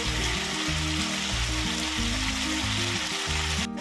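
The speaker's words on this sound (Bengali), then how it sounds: "ভালো করে কষতে হবে। মশলা কষা হয়ে গেছে, তেল ছাড়তে শুরু করে দিয়েছে।" Spice paste of cumin and green chili with turmeric fries in hot oil in a pan, making a steady, close sizzle that runs the whole time under background music, with no talking.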